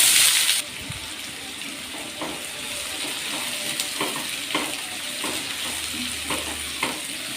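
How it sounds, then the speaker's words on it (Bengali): Chopped onions hit hot mustard oil already crackling with cumin seeds, bursting into a loud hiss that then settles into a steady close sizzle with scattered stirring clicks. "পেঁয়াজটা একটু ভালো করে লাল লাল করে ভেজে নেব।"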